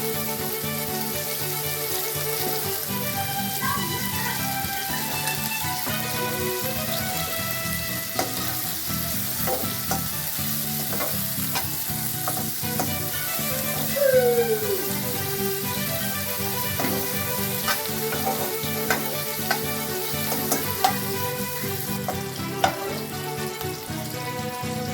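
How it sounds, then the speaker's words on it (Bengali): Chopped onion and garlic fry in hot oil in a kadai with a dense, constant sizzle and occasional stirring clinks, close and steady throughout with no speech. "কড়াইতে পেঁয়াজ ও রসুন কুচি ঢেলে দিই।"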